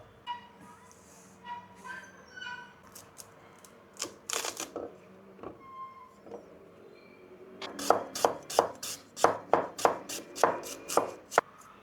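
A Japanese knife chops through a cabbage half on a board, a few scattered cuts early, then a fast run of crisp, crunchy strokes close by; light voices murmur in the background.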